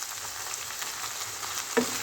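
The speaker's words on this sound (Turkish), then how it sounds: "Domates salçası ilave iyice kavuralım" Tomato paste fries in a pan, giving a steady close sizzle with a slight stirring scrape near the end and no talk.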